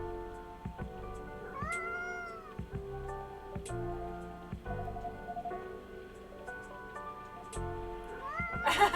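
The cat Lua in the video game Coffee Talk 2 lets out several clear, rising meows spread across the stretch over soft game music, with a louder meow near the end.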